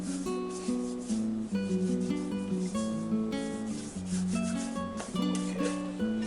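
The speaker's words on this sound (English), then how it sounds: "Just put some dry flour on your hands and rub it together." Flour-dusted hands rub together over a bowl of roti dough, a steady dry scraping and rustling that runs continuously and close.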